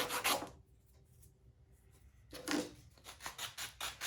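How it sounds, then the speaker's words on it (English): A small wooden piece is sanded by hand with sandpaper: quiet, close rubbing strokes in two bursts separated by a near-silent pause. "if you have another piece of sandpaper and you got a chopstick, the neck is much easier to sand like this"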